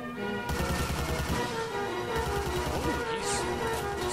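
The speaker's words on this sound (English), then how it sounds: "Somebody's shooting at something." Gunfire in the real-time strategy game Army Men of War, heard as a steady rattle of rapid shots under busy game music and battle noise, continuous and fairly loud throughout.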